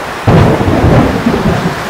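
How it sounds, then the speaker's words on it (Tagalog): A very loud thunderclap from a thunderstorm bursts in after a brief quiet moment, then rolls on as a sustained rumble with rain hissing underneath. "Parang pinakamalakas na kulog yun ka biyahe"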